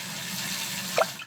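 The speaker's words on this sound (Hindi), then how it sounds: "डैडी पिग गाड़ी धोने के लिए साबुन वाला गुनगुना पानी लाए" Cartoon sound of warm soapy water for washing a car, a soft watery slosh with a brief bright splash near the end.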